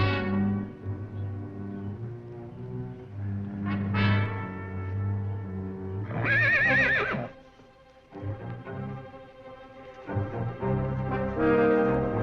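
Horses from the Western series Cheyenne whinny and neigh repeatedly, loud and close, with long, shaky calls rising and falling over several seconds, plus faint hoof clopping between calls.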